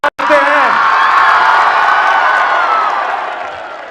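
Loud crowd at a PTI political rally in Haripur, Khyber Pakhtunkhwa, erupts in sustained cheering, whooping and applause that swells quickly after a brief gap and holds steady before slowly easing off.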